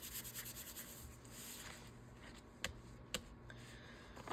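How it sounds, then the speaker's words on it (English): Packaging is rubbed and squished down onto wet glue: faint, close scratchy rubbing strokes in a soft repeating rhythm, with a couple of small ticks toward the end. "And take our packaging and rub. Squish it down."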